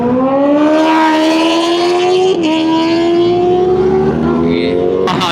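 A Kawasaki ZX10R superbike roars loudly up close on a ride through the Kanchanagiri hills, its exhaust a sustained, strained note that rises steadily, dips briefly at a gear change, then climbs again.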